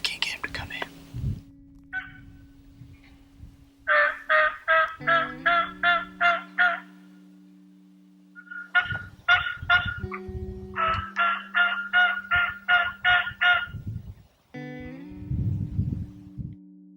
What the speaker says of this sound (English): There's turkeys gobbling everywhere.